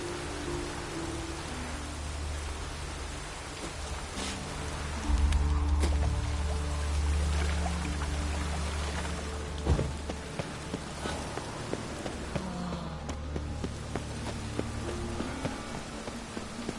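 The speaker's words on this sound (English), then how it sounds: "Looks like rain." Steady rain patters and hisses throughout, with low tones and scattered sharp knocks underneath, and a short louder burst around the middle.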